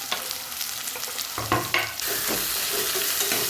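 Onion, curry leaves, potato and vegetables frying in oil for a simple vegetable pulao, a loud dense sizzle that swells after a couple of stirring scrapes, close by.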